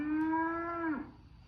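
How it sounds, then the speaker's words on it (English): A single long cow moo, loud and close, holds a steady tone for about a second before dropping in pitch and fading, with faint background noise after and no speech. "They were too busy mooing and chewing."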